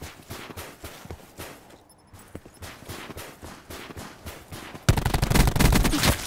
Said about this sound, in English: Oh, someone was shooting.